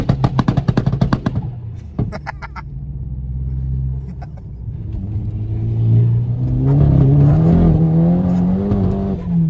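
A Golf GTI Edition 30 with a Stage 2 tune revs up, its engine tone climbing and growing louder near the end after a burst of rapid clicks and clunks at the start.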